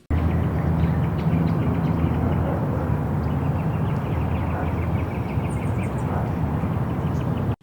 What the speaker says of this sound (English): Right here I just have this city like ambient sounds from Splice.